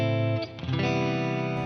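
An electric guitar rings out a sustained clean-toned chord, then a brief change before another chord rings on, close and steady.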